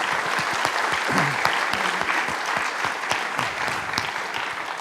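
Applause from an audience at an eco-activities awards ceremony, a steady crackle of many hands with sharper individual claps standing out, plus a few faint voices underneath.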